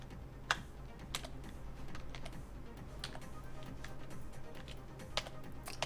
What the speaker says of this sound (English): Why am I typing into there?